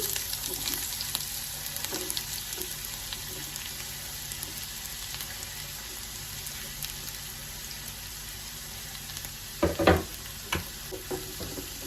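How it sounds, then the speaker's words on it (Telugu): Chopped onions frying in hot oil for a spicy egg curry, a steady close sizzle and crackle throughout, with a few louder stirring clatters near the end and no talking. "ఇప్పుడు మనము కట్ చేసుకున్న ఉల్లిపాయలు వేసుకుందాము"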